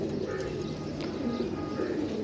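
Pigeons in a breeding flock coo softly in low repeated throaty calls, fairly close, over a quiet background with a faint voice nearby.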